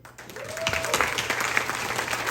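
Crowd applause at a political rally in the Philippines, steady, fairly distant clapping that carries on throughout with a brief whistle early on.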